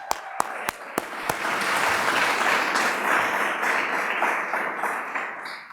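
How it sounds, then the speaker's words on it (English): An audience at a mayor's State of the City address claps, starting with a few scattered sharp claps that swell into sustained, dense applause from a large room filling several seconds. "Round of applause for that."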